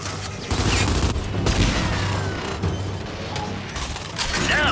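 Gunfire in Gears of War 5 aimed at Guardian robots: dense bursts of shots and mechanical clanks with booming impacts, loud and continuous over several seconds, with brief lulls between bursts.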